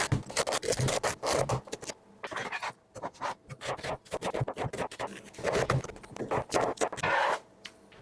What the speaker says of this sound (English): I'm just going to dice everything up.